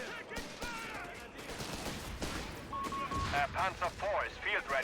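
Mortar barrage in Company of Heroes 3, a dense run of overlapping gunfire and explosive thuds under continuous game voices and effects, with a tonal beep partway through.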